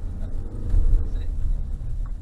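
A Mercedes-Benz off-road vehicle's engine rumbles steadily at close range as it drives up and over rough terrain on an off-road course, with a low continuous drone that swells slightly midway.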